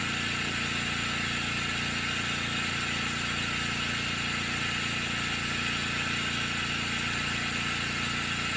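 Specialty Coating Systems G3P spin coater running at 4000 RPM, giving a steady low motor hum with a faint pulsing rhythm under constant broadband hiss, continuous and even throughout with no talking.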